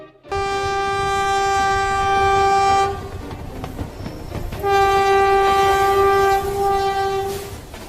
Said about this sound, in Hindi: हेलो सर, ट्रेन स्टेशन पर आ चुकी है।